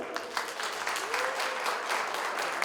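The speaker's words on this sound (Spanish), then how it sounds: "Un gran aplauso para este gran líder socialista, Marcelo Quiroga Santa Cruz." Audience applause for a socialist leader at an online magazine presentation on journalism and war, a steady dense patter of clapping filling the whole stretch without speech.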